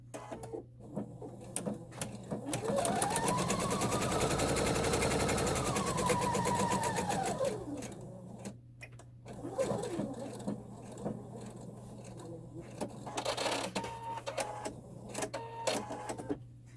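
A sewing machine stitches the inside end of a drawstring pouch with right sides together, a steady motor whir running for several seconds with a low hum beneath and pauses of quieter handling afterward.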